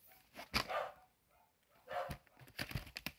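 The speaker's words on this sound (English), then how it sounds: "Just ignore the dogs." Several dogs barking indoors, a few sharp bursts separated by a quiet gap, then a tighter cluster of barks toward the end, moderately near and without speech.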